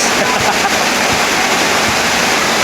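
Loud, steady rush of floodwater during a thunderstorm, a dense broadband roar like a torrent pouring through, close and unbroken throughout.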